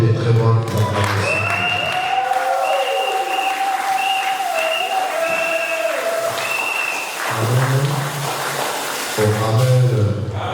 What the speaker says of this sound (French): Est-ce qu'on peut donner des très bonnes acclamations?